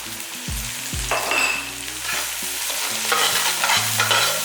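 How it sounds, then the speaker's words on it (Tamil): Onions with salt stirred and fried brown in oil for chicken pulao, a loud close sizzle that runs without a break while a spoon scrapes and turns them, with no voices. "வெங்காயம் கொஞ்சம் நல்லா ப்ரௌன் கலரில் வதக்கி எடுத்துக்கலாம்"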